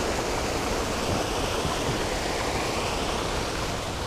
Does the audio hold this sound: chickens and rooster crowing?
no